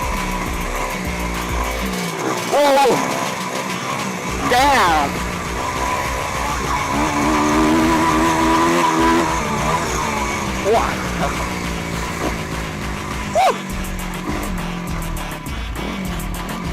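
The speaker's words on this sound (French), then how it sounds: "Là on a le bruit de fond de la moto et tout" Motorcycle riding noise captured by a helmet microphone: a steady, loud engine drone with rumbling wind runs throughout, shifting in pitch as the bike moves, while a rider briefly exclaims over it.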